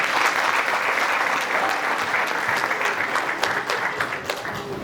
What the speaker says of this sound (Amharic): ለእናንተ ለራሳችሁ አንድ ጊዜ ሞቅ ያለ ጭብጨባ